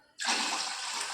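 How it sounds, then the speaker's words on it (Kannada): Water pours into a cooking pot in a sudden, steady hissing gush, close and loud, starting abruptly and continuing without pause. "ಪಾತ್ರಕ್ಕೆ ನೀರು ಹಾಕಿ"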